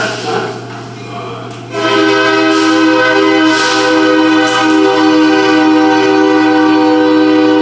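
A train rolls past close by, its horn sounding a long, loud, steady blast over the rumble of the wheels.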